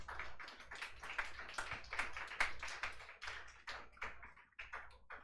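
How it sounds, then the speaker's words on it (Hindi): Students in a physics classroom clap together, a scattered patter of many hands at moderate distance, uneven and slightly tapping in texture, running on alone without talk. "ताली बजा दीजिए"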